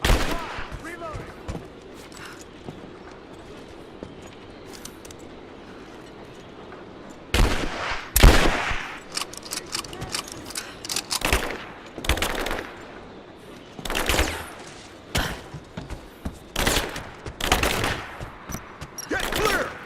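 Rise of the Tomb Raider game combat with repeated gunfire bursts and sharp shots over a busy background, growing denser in the second half, with character voices shouting.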